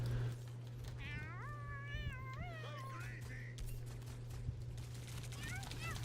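A video game character gives cat-like chittering calls, a run of quick wavering chirps that climb and fall, heard clearly above a steady low hum and game background noise.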